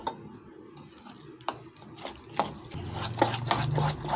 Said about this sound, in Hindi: और पानी डालेंगे इसमें हम।